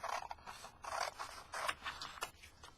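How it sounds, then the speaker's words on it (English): Scissors snip through a paper or card strip while making a glitter putz house craft, several quick crisp cuts in a loose, uneven rhythm, close and clear with no talking. "you can take your pair of scissors and you can do a quick cut"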